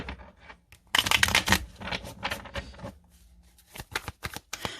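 Tarot cards being shuffled to start a card reading: several bursts of riffling and sliding cards, close and crisp, with short pauses between them.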